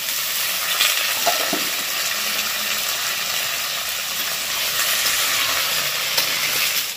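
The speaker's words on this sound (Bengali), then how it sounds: "আলু পেঁপে ওদিকে ভাজা হচ্ছে" Small-cut potato and papaya pieces fry together in a pan, giving a loud, continuous crackling sizzle nearby with occasional stirring scrapes and no speech.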